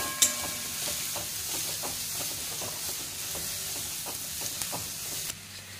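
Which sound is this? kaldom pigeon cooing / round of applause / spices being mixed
spices being mixed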